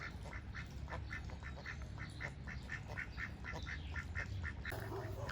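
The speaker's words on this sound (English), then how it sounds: "Well, hello, Mr. Ducks" A duck quacking repeatedly in a steady rhythmic series, fairly close, over a low background rumble.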